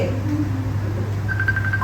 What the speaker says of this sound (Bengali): ফোনটা কে ফোন দিচ্ছে দেখি কে